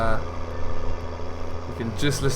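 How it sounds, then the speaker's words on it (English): A tractor engine in the Farming Simulator 19 video game drones and idles steadily throughout, with a voice talking over it. "the sound of the engine if you really want"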